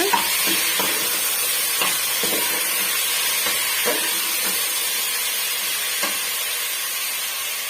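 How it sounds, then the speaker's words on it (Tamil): Vegetables sautéing in a pan for a South Indian kootu make a steady broadband sizzle, with soft scraping stirs recurring every second or so, close and moderately loud, and no talking. "ஒரு ரெண்டு நிமிஷம் வந்து நம்ம வதக்கி விட்டுக்கலாங்க"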